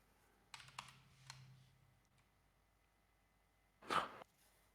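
Computer keyboard typing during a freestyle rap stream, a few quiet clustered key clicks near the start and one louder burst of clacking later, with soft background hum and no speech.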